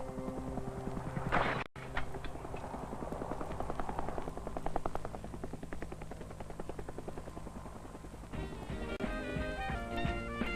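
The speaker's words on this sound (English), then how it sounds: "The helicopter is dropping me!" Rhythmic thumping chop of a helicopter rotor, loud and steady, with a brief drop-out early on and tonal sounds joining near the end.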